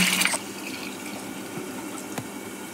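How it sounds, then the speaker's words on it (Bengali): Soaked rice being washed with water for biryani, a brief splash and pour at the start, then quiet sloshing and occasional drips in a kitchen. "ভিজিয়ে রাখা চালটা এবার আমি ভালো করে ধুয়ে নেব"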